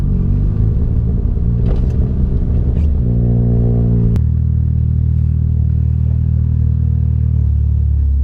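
A Peugeot 106 S16 engine running at idle, a loud steady rumble with some revving and clatter early on, then settling into a low even drone.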